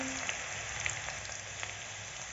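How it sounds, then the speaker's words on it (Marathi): Garlic paste sizzles softly in hot oil with mustard seeds, a faint, steady crackle with scattered small pops throughout. "छान अशी लसणची पेस्ट लाल झाल्यानंतर आपण त्याच्यामध्ये टाकणार आहोत वांगे।"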